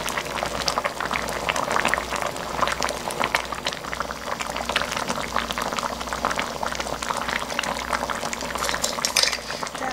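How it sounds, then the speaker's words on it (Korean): Spicy red chicken feet soup with bones bubbles at a steady gentle simmer over low heat, a continuous close, moderately loud burble with occasional small clinks, no talking. "물을 좀 낮춰갖고 좀 뭉근하게 좀 끓일게요"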